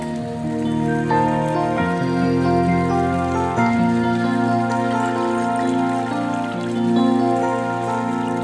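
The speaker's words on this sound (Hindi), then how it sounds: "इसको डालने के बाद आप इसमें डालें 3 कप पानी।" Water pours into a cooking pot for a spiced chicken shorba, a continuous splashing stream that runs steadily and close throughout, with no talk over it.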